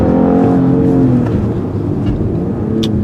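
Engine of a 2015 Acura TLX pulling hard under full acceleration from a standstill, a loud steady roar that drops in pitch as the transmission shifts at redline; heard from inside the car, no voices.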